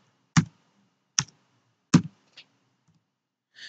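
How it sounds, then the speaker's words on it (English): A few crisp, separate key clicks on a computer keyboard as a date is typed. The taps are close and unevenly spaced, with silence between them. "when you start typing in the date like this"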